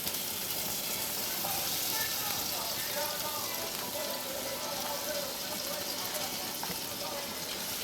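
Pieces of fish searing in olive oil in a pan on medium heat, a faint, steady crackling sizzle throughout.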